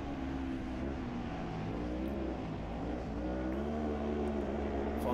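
Rallycross cars race on the Jules Tacheny circuit at Mettet in Belgium, their engines droning and revving with a steady, strong, slightly distant roar and shifting tones throughout.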